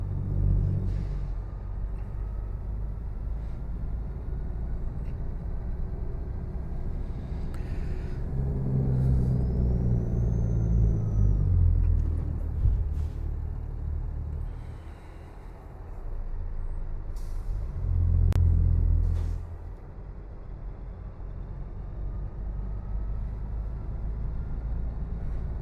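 Heavy truck in a driving simulator game on a southbound run near Hermosillo, Mexico, with a steady low engine and retarder rumble throughout, a couple of swelling louder surges, and a brief air-brake hiss; no talking.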